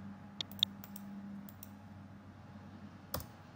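A few sharp, quiet computer mouse clicks, two close together near the start and one more later, over a low steady hum in a quiet room.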